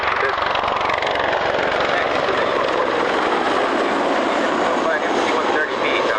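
MC-130P Combat Shadow aircraft at an airshow, a loud continuous roar of turboprop engines overhead, steady throughout, with an announcer speaking over it.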